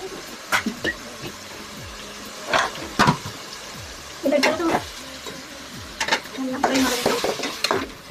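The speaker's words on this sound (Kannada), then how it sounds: "ಟೊಮೊಟೊ ಎಲ್ಲನೂ ಒಟ್ಟಿಗೆ ಹಾಕ್ಬಿಟ್ಟು ಚೆನ್ನಾಗಿ ಫ್ರೈ ಮಾಡ್ಕೊತಾರೆ" Masala, onion and tomato frying together in a pan for a gravy, with steady sizzling underneath and several sharp scrapes and clinks of a spoon stirring against the pan, close by.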